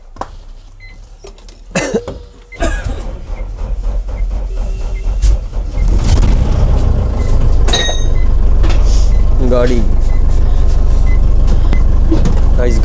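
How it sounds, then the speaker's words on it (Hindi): A school bus diesel engine in Himachal Pradesh cranks and starts, then settles into a loud, steady idle rumble, with someone talking and coughing over it early on. "गाड़ी हो गई हमारी स्टार्ट, अब छोड़ दी हमने आइडल रनिंग पे।"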